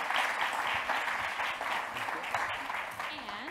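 Audience applause for presenters at a tech event, with steady clapping at moderate volume that carries on throughout, while voices murmur underneath.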